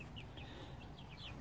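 Chickens inside a backyard coop with a hardware-cloth roof and roosting bar, giving soft, short clucks and chirps in a quick irregular series, faint against low background rumble.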